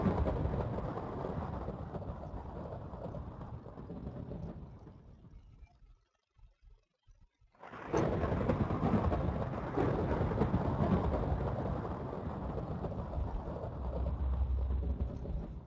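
Thunder rumbling in Minecraft with the Mystcraft mod, a long heavy roar that fades into near silence for a couple of seconds before a fresh loud crack and sustained rolling rumble with rain-like hiss, no voices.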